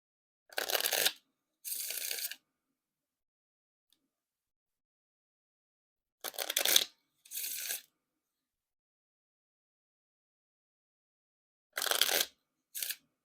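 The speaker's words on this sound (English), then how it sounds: "And now time for the Riffle Shuffle or Bridge Shuffle." Playing cards riffle and bridge shuffle in three separate rounds. Each round gives a close, crisp burst of rapid fluttering card snaps, followed by a shorter cascade as the cards bridge back together, with silence between rounds.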